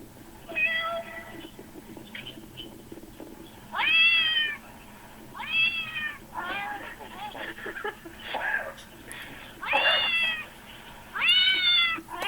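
A cat meows repeatedly, six or seven loud, separate meows spaced a second or two apart, over a steady low background hum.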